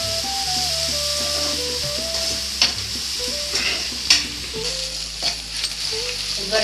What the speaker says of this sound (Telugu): ఇదిగోనండి, ఉల్లిపాయ ముక్కలు అయితే వేగుతున్నాయి